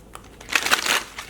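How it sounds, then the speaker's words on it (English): A deck of tarot cards being shuffled by hand, a short, close riffle of papery rustling and flicks that swells for about half a second, with no talking. "So how many times do I need to shuffle?"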